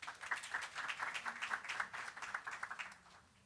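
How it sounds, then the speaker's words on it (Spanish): A medical audience applauds Dra Rodriguez after her talk on chemiluminescence versus ELISA, a fairly faint, steady roomful of clapping that fades out at the end. "Aplausos para ella, por favor."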